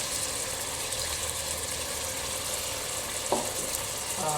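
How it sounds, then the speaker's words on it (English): Soft, steady sizzling of food frying in a pan with turmeric for stuffed cabbage dolma, a continuous crackling hiss with a faint low hum and a small clink near the end. "And as well as it is frying"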